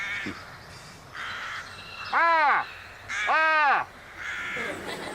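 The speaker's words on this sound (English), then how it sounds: "And that's a crow." A crow caws twice outdoors, two loud harsh calls about a second apart over a steady background hum, with fainter cawing around them and no talking.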